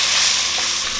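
Spices and tomato paste are mixed in a hot pan, giving a loud, dense, close hiss of frying that runs without a break through a brief moment. No voices are heard.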